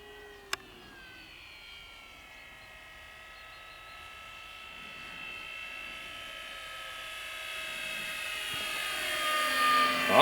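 A Kavan Norden 1600mm STOL RC bush plane on 4S power flies overhead with a high, whining electric motor drone that starts distant and faint, then grows steadily louder as it approaches, preceded by one brief sharp click.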